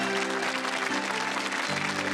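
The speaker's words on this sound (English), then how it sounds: "Give them a round of applause, folks." Studio audience applause on the 1987 game show 3-2-1 for a departing couple, broad continuous clapping with a faint low tone underneath, heard briefly throughout.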